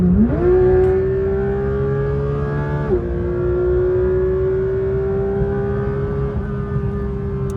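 Porsche 992 GT3 RS engine revving hard and climbing through gears, a loud sustained wail that rises steadily with quick shift breaks, heard close from inside the cabin without talk.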